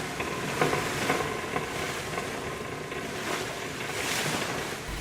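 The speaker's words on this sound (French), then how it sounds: "Le bateau continue sa destination sur une mer déchaînée." A ship ploughs through a raging stormy sea, with a steady roar of crashing waves and gusting wind that swells and eases, with no voices.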